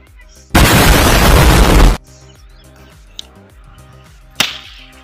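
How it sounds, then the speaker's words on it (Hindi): A loud, dense burst of roaring noise lasting over a second as a waterproof Diwali firecracker explodes underwater, followed by quiet and a second sharp pop later. "ये वाटर प्रूफ पटाखे हैं तो आराम से जलेंगे पानी के अंदर"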